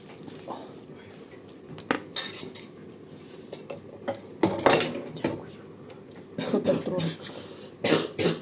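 Utensils clink and scrape against a bowl of cabbage being mixed, in short bursts, with a few louder clatters amid quiet background noise.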